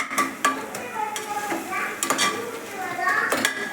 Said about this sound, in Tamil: புதினா கொத்தமல்லி போட்டிருக்கேன், நல்லா வதக்கிட்டு.